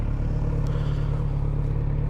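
A Moto Guzzi V100 Mandello S motorcycle engine idles close by with a steady, low, throbbing rumble that stays even throughout.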